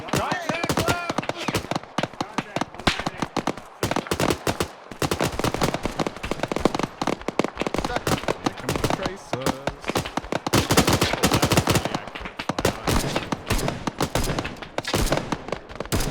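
Dense, near-continuous gunfire from an Arma 3 battle, rapid cracks and bursts packed across the whole stretch, loud and close, with voices talking over it.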